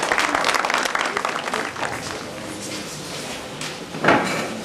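Parents at a school orientation applaud a speaker as they return to their seat. The clapping is loud at first, then thins and fades, and a single knock or bang sounds near the end.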